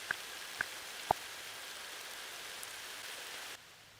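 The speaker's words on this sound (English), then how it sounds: "just a little bit of rain that I recorded years ago" An old field recording of rain gives a faint, steady hiss with a few sharp drips near the start before the sound drops lower toward the end.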